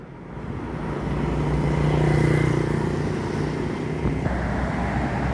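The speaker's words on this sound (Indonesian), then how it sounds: "Truk." A truck passes on a Palembang road, a broad steady engine roar that swells near the middle and fades slowly, with a low droning hum and no talk.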